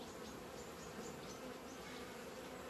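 Honeybees of a young colony with a red-marked queen buzz steadily at an open hive, a dense, even drone with several nearer bees passing, fairly quiet and with no voices.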